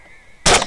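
A single loud rifle shot from 6.5 Grendel ammunition with Hornady SST bullets during a night thermal hog hunt, a sudden sharp crack following a quiet moment, then a brief lingering roar.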